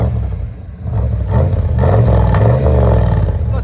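A 1995 Chevy 1500 Z71 with a 5.7L V8 and Magnaflow Magnapack exhaust, 3-inch pipe and dual tips, revs hard and close, a loud throaty roar that dips briefly then swells and holds.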